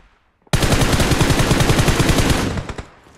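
Automatic weapon fire in PUBG Mobile erupts abruptly as one loud, rapid sustained burst of closely spaced shots lasting about two seconds, then cuts off, with a few trailing echoes.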